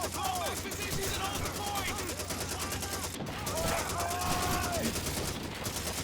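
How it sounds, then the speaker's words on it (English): Rapid bursts of .30 caliber machine gun fire in Call of Duty 2, a dense stream of shots through the whole stretch with a brief pause midway, mixed with other battlefield noise and faint voices. "now we have the 30 caliber machine gun."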